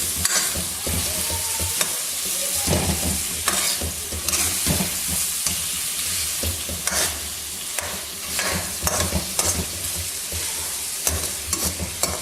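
Chicken sizzles and fries with ginger garlic paste in a karahi over a medium flame, a steady close crackle broken by repeated scraping strokes of a spoon against the pan.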